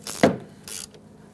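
An 11mm socket on a ratchet tightens a brake hose bolt on a Subaru Forester, with two short, close bursts of ratcheting clicks and a brief metallic knock.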